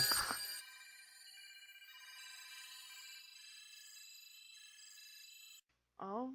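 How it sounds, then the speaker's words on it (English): A telephone ringing in a radio production booth sounds as a sustained bright electronic trill for about five seconds after a short burst of noise. It cuts off abruptly and is followed by a brief voice. "phone is ringing off the hook here"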